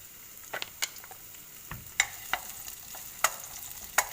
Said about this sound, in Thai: หอมลงไปผัดก่อนนิดนึงนะคะทุกคน